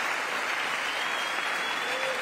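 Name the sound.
audience applauding during State of the Union address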